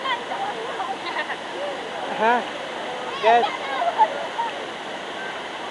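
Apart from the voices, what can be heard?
waterfall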